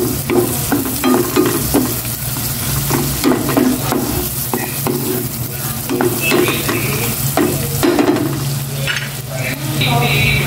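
Onions sauté in a pan for a simple birthday dish, under a steady close sizzle broken by repeated scraping and clacking strokes of a spoon stirring throughout.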